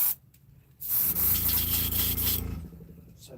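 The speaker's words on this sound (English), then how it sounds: "spray paint, actual Rust-Oleum for the base coats" A Rust-Oleum spray paint can hisses in one sustained burst of about two seconds, close and loud, with short quiet gaps before and after.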